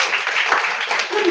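Audience applause at a workshop: a brief burst of steady clapping from a group, fairly close and even in loudness, with a voice faintly under it near the end.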